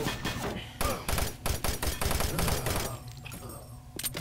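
Rapid video game gunfire in bursts and single shots, fired around corners, loud and busy with thumps between volleys.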